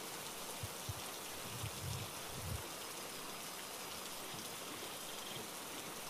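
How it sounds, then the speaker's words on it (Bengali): Heavy rain falls at night in a steady, even hiss of drops on surfaces, fairly quiet and continuous with a few low soft thuds and no voices. "আর এই বৃষ্টি চট করে থামবার মতো নয়"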